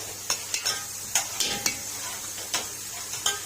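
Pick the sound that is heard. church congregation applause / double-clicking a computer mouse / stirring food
stirring food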